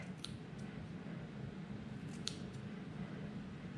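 Scissors snip through an angora rabbit's long wool quietly a few times, with short, crisp cuts over a low, steady background hum.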